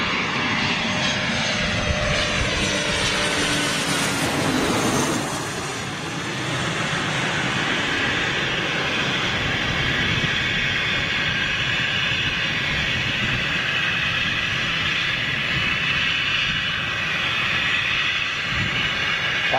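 Lufthansa airliner at London City Airport, a loud steady engine roar dominating throughout with a passing swell near the start.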